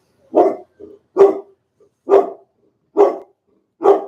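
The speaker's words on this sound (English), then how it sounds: "Rosie, dog's going crazy." A pet dog barks loudly and close by indoors, five sharp separate barks at a steady rhythm, with a couple of softer yips between them and no talking.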